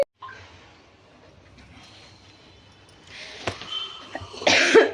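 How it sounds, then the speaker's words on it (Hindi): Coughing indoors from a person in a home, a couple of sharp bursts near the end after quiet room noise, fairly close and moderately loud. "खांसी हो रही है"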